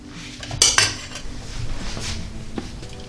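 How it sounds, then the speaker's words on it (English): A bread knife cutting into a strawberry cream cheese loaf on a plate: a couple of sharp metallic clinks and scrapes up close, followed by a softer sawing rasp. "Alright, I cut into it with my bread knife here."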